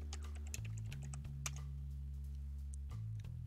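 Someone types a password on a computer keyboard during an Ubuntu 20.04 VirtualBox install, producing quick, faint key clicks in an irregular burst over a low steady hum.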